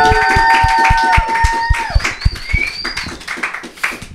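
Hands clap in uneven, spaced bursts for a duo at a Singapore music show, while sustained tonal music fades beneath and a few whoops ring out.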